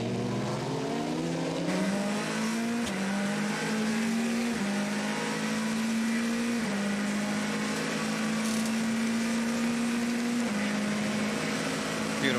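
Race cars at the 2014 24 Hours of Le Mans drone continuously on track, a steady engine note that steps up and down in pitch as they shift gears. It sounds moderately distant and fairly faint, with almost no talk over it.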